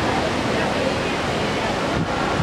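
Water pours from a waterfall at a plaza in Seoul, a steady broadband rush, fairly loud and constant, with a slight wind-like hiss on the microphone.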